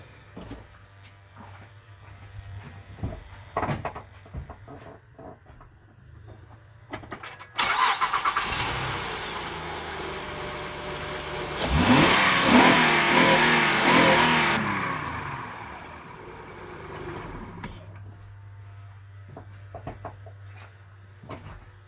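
A 2006 Honda Ridgeline with a newly installed throttle body sensor cranks and starts, then its engine revs up loudly and settles back down to idle, with small handling noises before and after.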